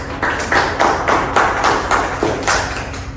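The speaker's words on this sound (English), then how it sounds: "Let's give them another round of applause" An audience at a panel discussion applauds its speakers with close, fairly regular clapping that keeps an even, tapping rhythm from start to finish.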